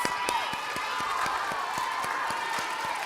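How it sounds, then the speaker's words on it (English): Children clapping at a kids camp, a dense sustained round of applause with sharp regular claps standing out, steady and fairly close for about three seconds. "Give her a round of applause."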